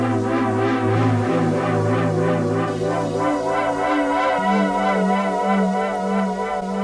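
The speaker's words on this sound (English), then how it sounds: "We bring back the Omnisphere sound." Omnisphere synth pad in a hip-hop beat, sustained and dense with shifting held notes and a soft pulsing texture, steady and loud throughout with no talking.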